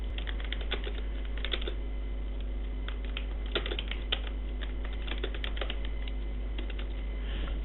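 Fingers typing on a computer keyboard, with keys clicked steadily and in small bursts at close range and a faint constant hum beneath.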